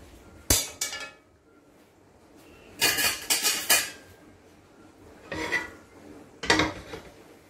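Pieces of cooked duck are moved into a large wok, making several bursts of metallic clanks and scraping against the pan with quiet gaps between them, close and fairly loud.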